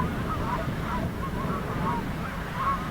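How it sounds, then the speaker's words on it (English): Geese honk repeatedly beside a lake on a very windy day, their calls rising above a steady roar of wind and waves. "Birds were having a tough time flying around."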